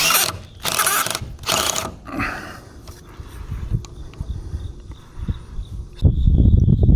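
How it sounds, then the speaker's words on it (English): Screws being backed out of the body of an RV toy hauler near where lights will mount, a series of small close metallic clicks and ratcheting turns, with several louder bursts at the start and a heavier rumble toward the end. "So the next thing I'm going to do is take all these screws out."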